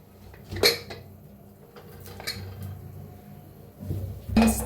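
Sharp metallic clanks and clatters as a pressure cooker lid is opened after cooking chicken, a loud hit near the start, a few softer knocks in the middle and another clatter at the end.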